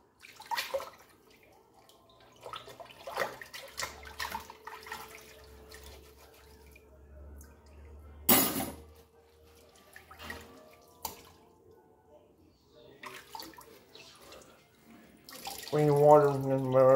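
Tap water running intermittently into a home sink while bowls and plates are washed, with faint clinks and splashes, quiet pauses, a sharp burst near the middle and louder running water at the end, with speech in between.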